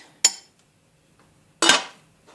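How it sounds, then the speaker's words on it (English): Two sharp metallic clanks roughly a second and a half apart as a lid is set onto a slow cooker of white bean and chipotle chili, close and loud, the second ringing longer. "I'm just going to go ahead and start the slow cooker, cover it, and cook it"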